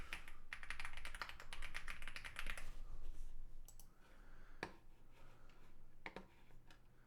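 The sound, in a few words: typing a credit card number on a computer keyboard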